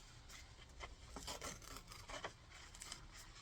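Thin paper is torn by hand into pieces for decoupage pumpkins, making soft, repeated ripping and rustling bursts at close range, quietly and without talk.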